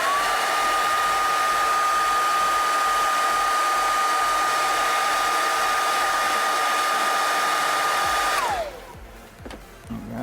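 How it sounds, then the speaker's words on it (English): A hairdryer blows on adhesive with a steady loud whirring roar and a constant whine, running close and unbroken for about eight seconds before switching off and winding down to near quiet. "I'm just going to get the hairdryer out and let it dry for a little bit."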